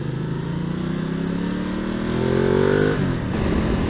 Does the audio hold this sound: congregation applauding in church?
no